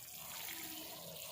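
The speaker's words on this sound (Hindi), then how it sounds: "ये हमारे पास डब्बा पानी लगाने के लिए, शावर कहते हैं जिसे, हम इसके ऊपर थोड़ा सा शावर करेंगे पानी से" A watering can sprinkles water onto a pot of freshly sown sunflower seeds, a soft continuous hiss and patter of fine spray that stays steady and quiet throughout.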